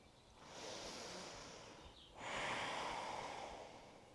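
Deep breathing during a yoga pose in a slow vinyasa flow: a soft, airy inhale and a fuller, louder exhale from about midway, close and quiet, with no talking.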